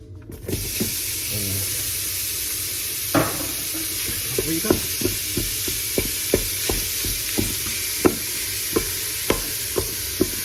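Lamb mince frying in a preheated Ninja Foodi on sear/sauté setting 3, a constant loud hiss with a regular series of stirring scrapes and taps against the pot, with no talking.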